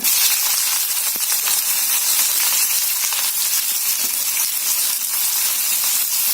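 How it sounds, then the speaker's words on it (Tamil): Cinnamon, cloves, cardamom and sliced onion sizzle in hot oil for mutton pepper fry, giving a steady, loud, close hiss with small crackles throughout and no talking. "இப்ப எண்ணெய் சூடாயிடுச்சு. இப்ப நம்ம பட்டை, 2 லவங்கம், ஒரு ஏலக்காய் போடுறேன்."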